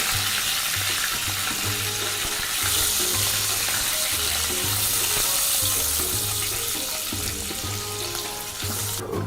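Prawns frying in a pan for Bengali chingri malai curry, a dense, bright sizzle with rhythmic low knocks and tapping throughout, close and loud with no voices.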